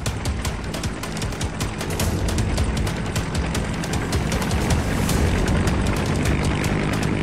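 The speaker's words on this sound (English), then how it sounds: "The helicopter's on the scene." A toy rescue helicopter reaching a miniature accident scene, a loud continuous rotor-and-motor whir with rapid rhythmic chopping pulses, close by and steady, growing slightly stronger midway.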